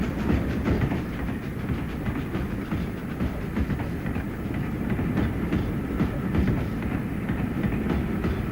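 A train arrives at a low-level station with a dense, steady roar and rhythmic clickety-clack of wheels on rails, loud and continuous throughout.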